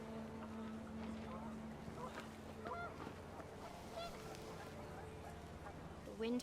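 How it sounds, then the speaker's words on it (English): Panicked geese honk a few times in the video game What Remains of Edith Finch, faint and distant against a low, steady wind-like background rumble. "The wind picked up and panicked geese appeared and quickly went."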